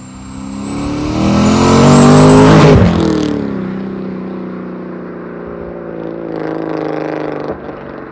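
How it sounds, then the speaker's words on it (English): Cammed Chevy LS3 V8 swapped into a Volvo 240 revs hard, its loud roar climbing to a peak, then dropping back to a lumpy idle before a smaller second rise. "It's LS3 swapped, so it's got a cammed, Chevy LS3 V8."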